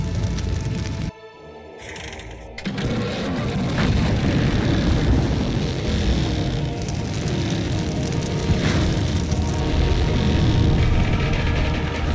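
An airplane in the video game Full Throttle Remastered gives a loud, continuous roaring drone with crackling noise. A short dip near the start is followed by sustained engine noise, and no one speaks.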